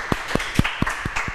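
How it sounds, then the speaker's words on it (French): Steady, rhythmic clapping from an audience welcoming a pageant contestant, about six distinct claps roughly a quarter second apart, moderately close, with no talking. "Et toujours sous un tonnerre d'applaudissements."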